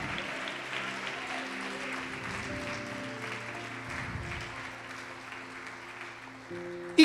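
A church congregation applauding during a sermon, a steady wash of clapping with sustained organ or keyboard tones underneath, fading slightly before a sharp sound at the very end.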